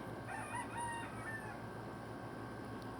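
A gamecock rooster crows once, fairly faint and distant, over a steady outdoor background hum, with no voices.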